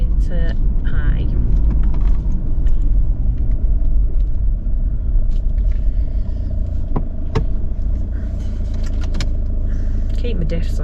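A 4WD rolls along a smooth dirt road near Dargo, Victoria, its engine and tyres giving a loud, constant cabin rumble with occasional rattles, while someone talks over it.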